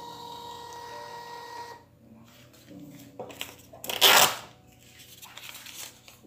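Printer running off WiFi voucher codes: a steady mechanical whir gives way to irregular feed clatter and a loud grinding burst near the middle, then fainter rattles as it finishes.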